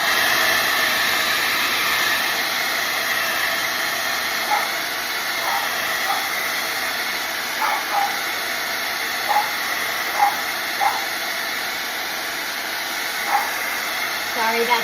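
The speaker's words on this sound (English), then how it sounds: "So let's pardon the blow dryer." Blow dryer drying fresh stencil paint on IKEA furniture, a loud, steady whooshing hiss held for the whole stretch, with a few faint clicks and thumps in the background.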